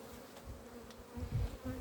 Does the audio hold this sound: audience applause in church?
no